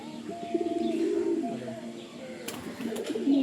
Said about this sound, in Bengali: পায়রাটাকে আর ছেড়ে দেখাচ্ছে, এই যে নর পায়রাটা